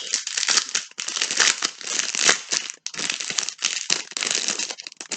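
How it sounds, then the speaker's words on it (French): Plastic packaging crinkles and crackles continuously as AliExpress Christmas lamps are unwrapped, close and fairly loud, with brief pauses between handfuls of crumpling. "On va déballer."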